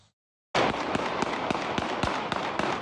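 Live gunfire during a large-scale street fight outside Soroka Hospital in Beersheba. Sharp cracks repeat at a rapid, fairly regular pace over dense chaotic noise, starting abruptly after a brief silence.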